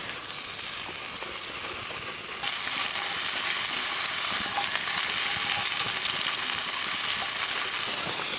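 Mirepoix vegetables fry in a pan with a constant loud sizzle and hiss that grows slightly fuller partway through; no voices.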